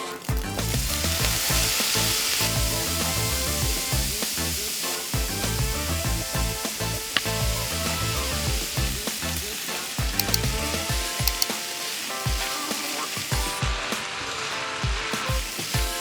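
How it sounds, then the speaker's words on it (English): Minced pork stir frying in a hot pan for a quick chili ban mian, a steady loud sizzle with scraping stirs and occasional clatter, continuous and close with no talking. "I'm gonna make a very simple minced pork stir fry"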